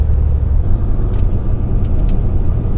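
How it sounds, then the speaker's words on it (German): City bus pulling away on a street in Sicily, a loud deep rumbling engine drone that holds steady and then fades at the end, with no voices. "mit dem Bus, der da gerade wegfährt, hier angekommen"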